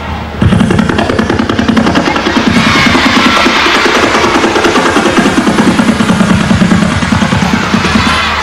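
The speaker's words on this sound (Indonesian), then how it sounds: "Siapa yang pengen punya helikopter?" A helicopter's rotor thuds in a fast, even, continuous chop that is loud and steady, with no talking over it.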